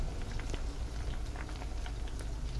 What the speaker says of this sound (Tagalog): Kumukulo yung mantika ko dahil, ay nagbubula